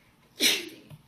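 A single sharp adult sneeze, close and fairly loud, lasting well under a second, in a quiet room during an in-home assessment interview.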